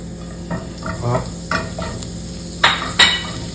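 Garlic sautés in a pan ahead of beef and asparagus, a quiet sizzle broken by several distinct spatula scrapes and taps that grow sharper toward the end, with no one speaking.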